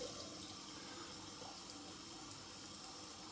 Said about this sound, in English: Put a bit of cold water on.